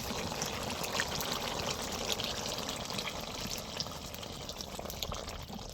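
Curry gravy poured into a dish, a soft steady liquid stream running continuously, quiet and close, with no talking.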